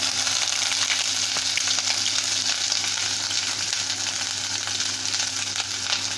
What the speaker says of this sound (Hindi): अब सबसे पहले हम इसमें घिसी हुई अदरक डाल देंगे।